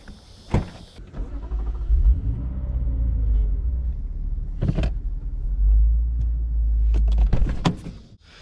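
A 2020 Lexus RC F Track Edition rumbles with a low, steady engine note while being maneuvered into a parking spot, with a few sharp clunks and mechanical clicks near the start and end.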